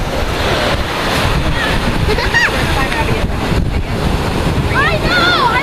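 Ocean waves roll onto a beach in a steady loud wash of surf, heavy wind buffeting the microphone, with faint high voices and squeals breaking through now and then.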